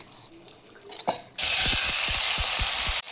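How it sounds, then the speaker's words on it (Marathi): Masala spices hit hot oil in a heated pot for chicken sukka, a sudden loud, steady sizzle lasting about two seconds, with a few soft clinks of a spoon or pan and some quiet handling beforehand. "मसाला चांगला तेलामध्ये भाजून घेऊया आपण"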